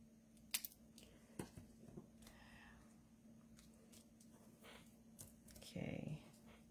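Scissors snip through a small piece of gold paper during card making, a few quiet, sharp cuts spread out over close, soft handling sounds.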